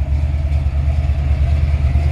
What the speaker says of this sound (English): I really like the sound of this exhaust